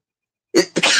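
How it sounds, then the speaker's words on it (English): A single sneeze from a streamer indoors: a sharp close burst followed quickly by a second louder, breathy explosive release, with no talking. "I freaking sneezed on stream"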